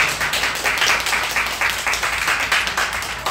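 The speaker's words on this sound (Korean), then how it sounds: "우리 박수로 환영하고 감사하겠습니다." Church congregation applauding in welcome during a Sunday worship service, a dense, steady patter of many hands clapping at close range for about three seconds with no voices over it.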